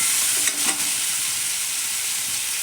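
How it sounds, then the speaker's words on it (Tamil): Water pours into a pan of vegetables sautéed with turmeric for wheat rava kichdi. Loud, steady sizzling and bubbling fill the short moment, with a brief splash near the start. "இப்போ வந்து நம்ம தண்ணி ஊற்றிடணும்."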